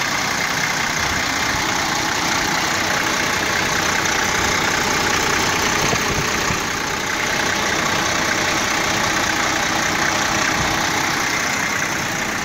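A car engine idles steadily at a low, even rumble, constant and close, with no talking.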